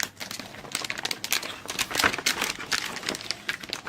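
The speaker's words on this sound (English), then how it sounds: "Let's take its covering off." Plastic protective covering being peeled and crinkled off a Roccat Isku illuminated keyboard, a close, quiet run of irregular rustles and crackles with a sharper crinkle burst midway.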